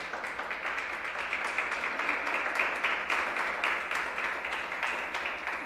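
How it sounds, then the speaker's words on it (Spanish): Church congregation clapping together during a Spanish-language service, a steady, moderately distant wash of applause with a loose rhythmic pulse, no talking over it. "Ahora sí, démosle un aplauso al Señor."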